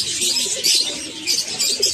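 Pigeons coo in a breeding setup with pairs and young birds, giving soft, low, repeated cooing close by beneath a continuous high chirping chatter.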